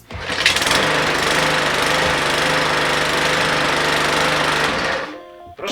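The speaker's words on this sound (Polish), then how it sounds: "I teraz możemy energicznie uruchomić silnik poprzez pociągnięcie." A Briggs & Stratton lawn mower engine, just started with a pull cord, runs at a loud, steady buzzing idle for about five seconds before abruptly cutting out.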